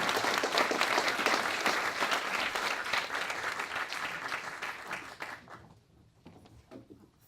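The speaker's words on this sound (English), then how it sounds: "the applause is for you and the audience" Sustained audience applause at an open access policy conference talk, a dense wash of clapping that fades out near the end.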